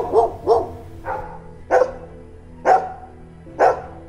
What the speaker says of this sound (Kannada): ದೂರದಲ್ಲಿ ಒಂದು ನಾಯಿ ಬೊಗಳ್ತಾ ಇರುತ್ತೆ.